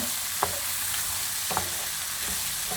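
Three onions, peas and hot peppers sizzle steadily in a pan while being browned for kabak oturtma, with a utensil stirring and scraping in three brief knocks over the constant frying hiss.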